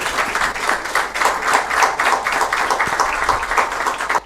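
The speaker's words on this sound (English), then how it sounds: "Another clap for Dr." A lecture audience claps steadily after a speaker's presentation at a memorial lecture, with dense, continuous hand claps filling the room at close range and no talking.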